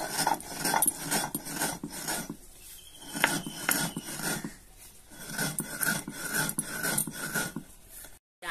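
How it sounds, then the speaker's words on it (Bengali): Sugar being ground to powder for sherbet, a repeated rasping, rubbing grind in bursts of strokes with short pauses, close and moderately loud, ending abruptly. "এবার চিনিটা গুঁড়ো করে নেব শরবতের জন্য"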